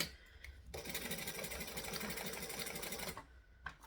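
Sewing machine stitching a handbag seam forward and then back-stitching, a steady close whirring hum for about two and a half seconds that stops abruptly, with quiet handling noises before and after.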